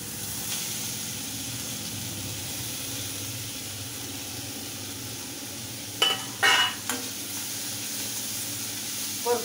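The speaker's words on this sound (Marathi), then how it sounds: "आता किसलेला दोडका आपण घालायचा याच्यात." Grated ridge gourd sautéing in a pan gives a steady, soft sizzle and hiss, with a few brief louder crackling bursts partway through.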